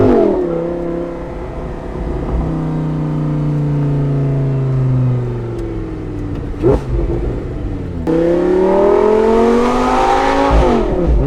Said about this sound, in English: let's get the engine all warmed up and do an on-road test